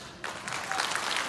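Audience applause after a flute performance at a festival, a dense wash of many hands clapping that swells in abruptly and holds steady at moderate volume.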